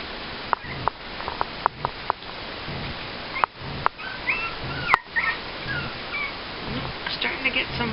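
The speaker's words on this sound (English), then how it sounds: "At this age, they get tired and cranky and they don't know why, so they walk around whining." Four-week-old puppies whine and whimper in high, thin cries, several short yips near the start and longer wavering whines later, fairly close and soft.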